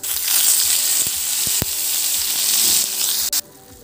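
Rice mushroom batter fries in hot coconut oil with a loud, steady sizzle and occasional sharp pops and stirring scrapes, until the sound cuts off at the end.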